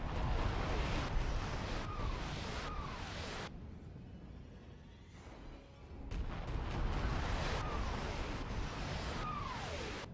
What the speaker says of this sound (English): I think that was the last round of artillery now.